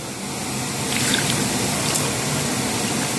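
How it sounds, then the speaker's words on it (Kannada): Water poured into a pot of mutton curry on the stove for cooking, a steady continuous gushing pour that holds at an even level throughout, heard alone and up close. "ಮತ್ತೆ ಇದಕ್ಕೆ ಬೇಯಲಿಕ್ಕೆ ನೀರು ಹಾಕಿಕೊಳ್ಬೇಕು"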